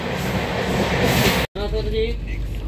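A Pune to Santragachi Humsafar Express running, heard from inside a compartment as a continuous rumbling rail roar, cut by a brief gap before a quieter stretch of rolling noise with faint voices.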